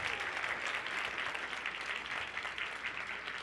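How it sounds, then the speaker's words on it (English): A youth conference audience gives steady, dense applause that continues evenly for several seconds and fills the room at moderate distance, with no voices standing out. "Give her another round of applause"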